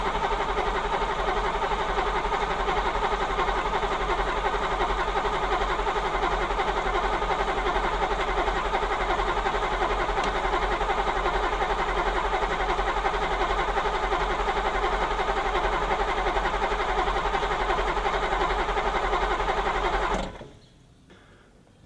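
Ferrari Mondial engine with its cover off, freshly rebuilt after a valve clearance job, runs at a steady idle for about twenty seconds and then cuts off abruptly, a dense, even mechanical drone with no talk over it.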